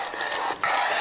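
A spoon stirring a sweet, savory hot pot broth in a pot, a short close scraping swish with a brief pause, no talk.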